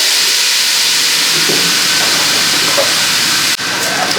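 Onions and peppers hit hot oil and fry with a loud, steady hiss that fills the whole stretch, broken by one brief dip near the end.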